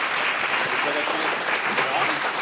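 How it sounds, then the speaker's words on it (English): A town hall audience gives a brief round of applause for their chief. The steady, moderately loud clapping has faint voices underneath. "We want to give our chief a round of applause."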